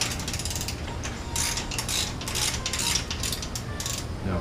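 A wrench works against a seized bolt on a Suzuki Boulevard C50 motorcycle during a bobber build, giving off steady metallic ratcheting and grinding clicks close up, with a faint voice in the background.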